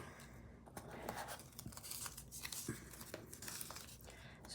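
A strip of tape tears off a roll during stucco building work, giving a dry ripping rustle with brief crinkly bursts, close and fairly quiet, with no talking.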